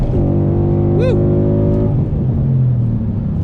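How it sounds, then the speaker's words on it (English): A 2016 Ford Mustang GT V8 engine with bolt-on mods revs loudly up close toward 7,500 rpm, its pitch climbing and then dropping back to a lower, steady drone. "it is a very free and high revving V8"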